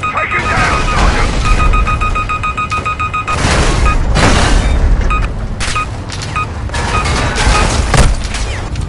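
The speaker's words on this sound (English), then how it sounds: "Enemy missile! He's on you, Sergeant!" An enemy missile blasts in a military video game, with dense, loud explosions and crashing booms running nonstop over a steady beeping alarm tone and shouted voices.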